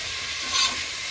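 Green peas sizzle steadily in a hot pan, with a constant hiss that swells slightly for a moment.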